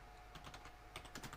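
Keys clatter on a computer keyboard in two short bursts of rapid typing with a brief gap between them, close and fairly quiet, with no voice over it.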